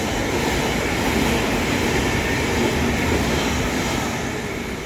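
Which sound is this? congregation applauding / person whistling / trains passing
trains passing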